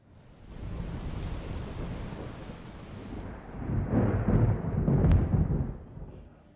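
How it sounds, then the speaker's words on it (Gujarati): Steady rain during a thunderstorm in Gujarat, with a constant wash of falling drops and a long, rolling thunder rumble that swells midway before fading. "હવામાન વિભાગની આગાહી અને આ સાથે જ અવિરત વરસાદ પણ જોવા મળી રહ્યો છે"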